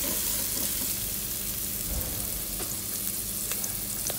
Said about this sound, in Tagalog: paghaluan lang natin yan para maiga at nalabas yung aroma ng sangkap.